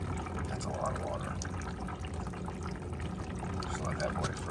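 Water pours steadily out of a submerged part, a continuous gushing, bubbling flow heard up close at a moderate level, with faint voices in the background.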